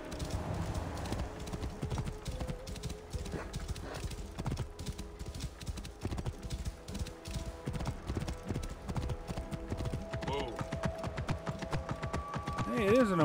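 Horse hooves gallop in steady clip-clop rhythm through Assassin's Creed Origins, loud and close, with occasional whinnies and game sounds layered over the run while someone talks along.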